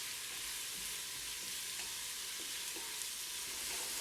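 Onions frying in a pot on medium high heat, a steady close hiss and crackle with faint stirring scrapes and no talk.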